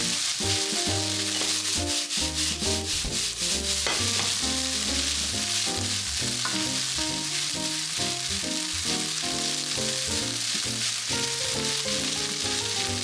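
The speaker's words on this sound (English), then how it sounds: "Stir-fry the chashu with the rice to transfer the flavor of the meat to the rice." Rice is stir-fried with chashu pork and crab fish cake, giving a steady, continuous sizzle and scraping that runs under prominent background music.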